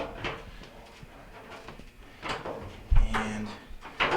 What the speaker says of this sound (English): now we should be able to pull our front panel off